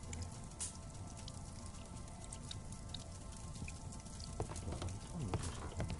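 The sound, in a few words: rain and leaking roof in Sherlock Holmes video game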